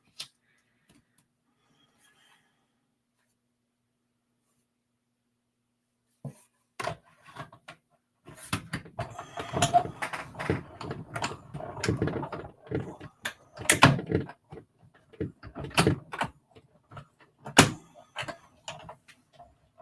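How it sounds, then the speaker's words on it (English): Paper and die run through a larger die cutting machine for a card, quiet at first, then a stretch of clicking, ratcheting and knocking from the crank and plates, with sharp taps near the end. "I'm going to run this through the die cutting machine"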